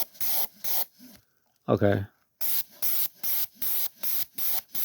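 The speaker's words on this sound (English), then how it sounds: "we'll see what happens if I spray this over the green" Bursts of spray paint hiss in a steady rhythm as brown is sprayed over green on a 1/18 scale GI Joe toy vehicle, close and loud, with one brief spoken word in a pause between the bursts.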